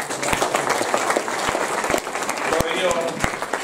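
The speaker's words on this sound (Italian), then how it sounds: "Un applauso!" An audience at a live comedy evening in Borella claps together, a dense steady patter of many hands at moderate distance with a few sharp louder claps standing out, and voices murmur beneath it.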